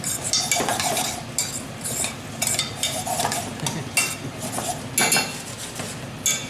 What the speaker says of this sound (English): A little bit of cream. Mix it up again.